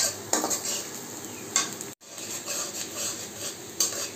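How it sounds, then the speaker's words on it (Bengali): Onions and green chilies fry in a pan while being stirred, a steady soft sizzle broken by metallic scrapes and clinks of a utensil against the pan, close and without talk. "পেঁয়াজ ভাজা চলছে"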